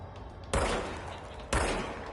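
Two loud, sharp shots ring out a second apart from an anomalous gun in the game Control, each blast trailing off in a short decaying rumble.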